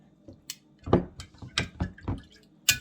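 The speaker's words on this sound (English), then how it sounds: "So get this out and then we'll strain it." Infused pineapple vinegar being strained, with a handful of soft drips and splashes of liquid landing close by at an uneven pace, set against a quiet kitchen background.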